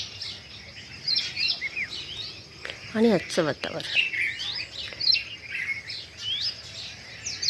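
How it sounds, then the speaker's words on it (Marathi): Birds chirp and twitter outdoors early on a Sunday morning in a steady busy chorus, with a sharp nearby trill in the middle. A person speaks briefly over the birdsong. "पक्ष्यांचा चिवचिवाट, कलकलाट."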